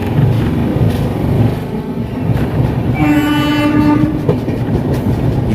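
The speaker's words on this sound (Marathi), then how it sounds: "आता ट्रेन पुढे निघाली" A Jan Shatabdi Express train running on the Konkan Railway, with a loud, steady rumble and rail clatter throughout and a sustained horn blast in the middle.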